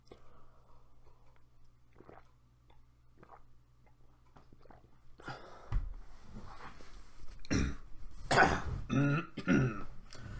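After a quiet stretch with faint small sounds, several throat-clearing coughs and rough vocal noises come close to the mic, interspersed with low murmuring.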